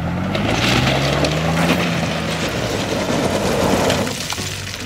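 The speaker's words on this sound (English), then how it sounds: "I just gonna smack that skid plate so hard" A 2022 Ford Bronco bashes down a trail at high speed, its skid plate smacking the ground amid a loud, continuous roar of engine, rattling and crunching impacts, with no talk.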